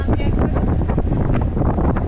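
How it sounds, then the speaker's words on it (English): Steady wind buffeting a microphone aboard a sailboat a couple of kilometres offshore in about 15 knots of breeze, a rough, gusty low roar filling the short stretch with no talk. "It's pretty windy. It's blowing about 15 knots."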